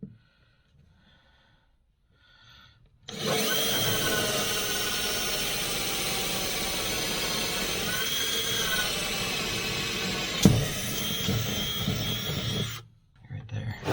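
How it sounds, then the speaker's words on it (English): A power drill drills holes in a 1965 Chevrolet Suburban, a loud, steady whine running about ten seconds after a quiet start, with a brief sharp knock near the end before it cuts off. "There's the drill. Got this drill bit for the holes."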